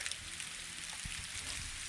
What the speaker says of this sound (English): and it is sleeting